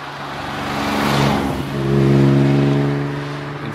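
A Fiat Dino 2400 engine runs close by, its steady low rumble swelling as it revs up, easing off briefly, then rising again to a stronger hum.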